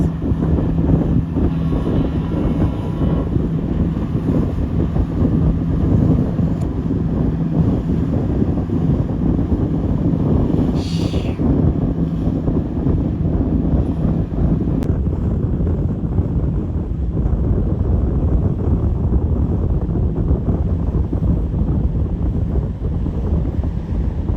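Heavy wind buffets the microphone over a loud, steady rumble of a fast turbocharged speedboat engine and rushing water, continuous for the whole stretch, in the Bahamas.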